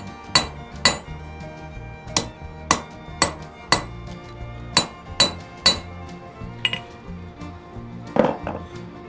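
Hammer striking hot steel on an anvil while forging tongs, about a dozen sharp, ringing blows in a steady rhythm with a couple of pauses, close and clear with no speech.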